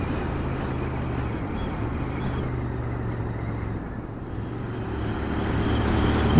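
A Royal Enfield Interceptor 650 motorcycle with a six-speed gearbox accelerates on the road, a steady low engine drone mixed with wind rush that swells louder toward the end, with no voices.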